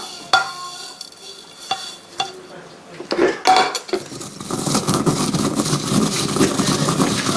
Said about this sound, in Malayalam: ഇനി ആദ്യം നമ്മൾ ഓട്ടിൽ വറുത്ത് വെച്ച കടുകും ഉലുവയും കൂടെ പൊടിച്ചെടുക്കുക.